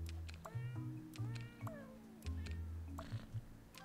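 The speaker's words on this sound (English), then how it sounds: "I live for the meow noises." Indoor house cat meowing several times in a row, close and clear, each call rising and falling in pitch with short gaps between, no talking.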